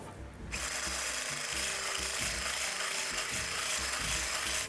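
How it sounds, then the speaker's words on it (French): An electric mixer whips eggs, egg yolk, coconut sugar and vanilla for a flan tart, starting abruptly into a loud continuous whirring buzz with rhythmic scraping pulses, alone and close. "on mixe le tout jusqu'à un ruban"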